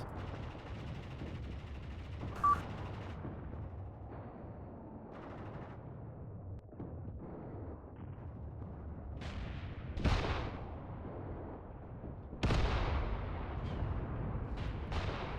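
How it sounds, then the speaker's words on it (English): Enemy mortar rounds impacting nearby in the World War II strategy game Mius Front, several heavy booming blasts at irregular intervals over a constant low rumble of battlefield background. "mortar enemy fire is impacting around here"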